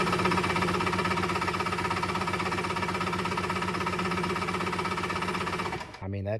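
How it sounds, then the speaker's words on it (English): A powersports engine spun by its starter on a lithium battery, a loud, fast, even cranking chug lasting about six seconds before cutting off abruptly, with no talking. "that is really spinning that starter over"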